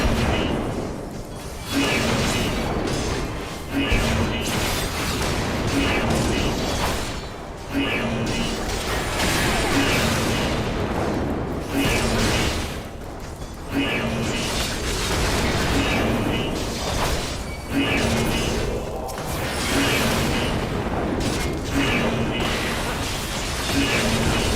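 Explosions go off again and again in Final Fantasy XIV, loud booming crashes and mechanical clanks in an irregular stream, mixed with game music.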